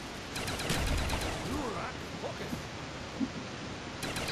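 Bursts of gunfire in a zombies mode video game, a broad noisy barrage early on that thins into scattered shots, with a voice speaking over the game sounds.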